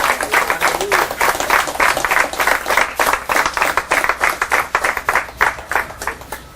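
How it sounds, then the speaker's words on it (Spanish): Congregation clapping in a church service, loud rhythmic applause close by for the full stretch, with strong evenly spaced claps suggesting people clapping in time. "Dale un aplauso al Señor."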